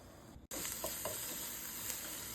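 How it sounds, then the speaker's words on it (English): Korean bowl mixture with ground beef simmering and sizzling in a pan, a steady close hiss with faint stirring clicks after a brief cut at the start. "Let that simmer for about 5 minutes."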